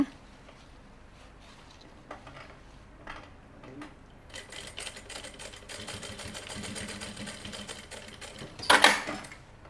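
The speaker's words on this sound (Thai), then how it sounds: "เราก็เย็บตรงนี้ค่ะ ให้เรียบร้อยนะคะ" A sewing machine stitches the elasticated cuff hem of jogger trousers, starting faintly and building into a steady whirring run with a louder clatter near the end, heard close with no voices.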